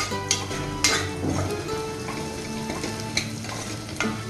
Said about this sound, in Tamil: இப்போ நம்ம வெங்காயம் நல்லா வதங்கிட்டு இருக்கு.